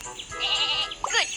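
Short, bright sheep bleats from a cartoonish train set game, a couple of quick wavering calls close up, with a narrating voice around them.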